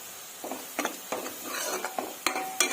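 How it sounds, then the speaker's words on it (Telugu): Onions frying to golden brown while being stirred in a pan, with repeated spoon scrapes and light clinks over a continuous sizzle, close by. "ఇవి గోల్డెన్ బ్రౌన్ కలర్ వచ్చేంత వరకు ఫ్రై చేసుకుందాము"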